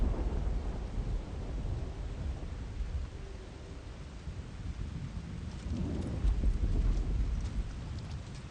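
Thunderstorm in a video game demo: steady rain hiss over deep rolling rumbles of thunder that swell and recede, fairly quiet and continuous throughout.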